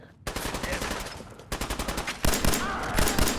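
Enemy gunfire in the Fallout 4 VR video game, with loud, sustained automatic bursts of rapid rhythmic shots in several volleys separated by brief pauses.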